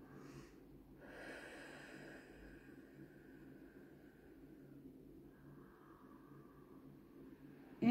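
A person draws a slow breath in during an eye yoga exercise, a soft, close, airy inhale lasting several seconds in a quiet room.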